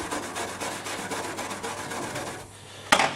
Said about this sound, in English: it's just one of those plastic brushes